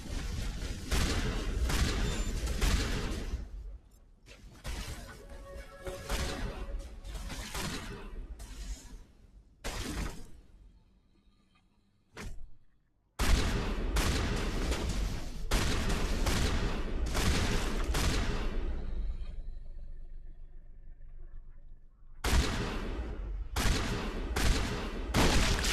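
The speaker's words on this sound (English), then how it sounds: "Rex, why are you using a pistol?" Repeated pistol gunfire in the Mass Effect video game, loud close bursts of shots in clustered volleys separated by brief pauses, with no talk over them.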